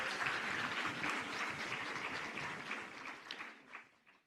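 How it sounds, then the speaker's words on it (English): Audience applause fills the room at a gala dinner, a dense, sustained wash of clapping from a large crowd that holds steady for several seconds before tapering off near the end. "I want us all to give a round of applause to Tim and his team"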